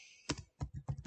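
Several clicking keystrokes on a computer keyboard while code is entered in a programming tutorial, irregular taps in a short quiet burst, close and fairly soft with no talking.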